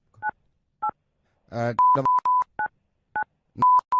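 Phone keypad tones as a number is dialed: a string of short, loud, clean beeps at uneven intervals, close up, with a brief burst of voice in the middle.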